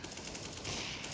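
Rapid automatic gunfire rings out at a bombsite in a CS:GO college league match, a dense continuous burst of shots that stays loud and steady for about a second without any talk.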